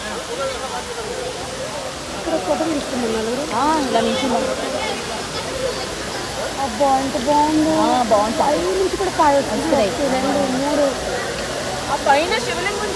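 Waterfall at the Kapila Theertham temple, a continuous rushing hiss of falling water with a person talking over it throughout.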